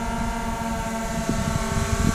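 A DJI drone hovers close by, its propellers giving a steady, even whine with a low, fairly quiet tone that holds for the whole moment, broken only by slight buffeting.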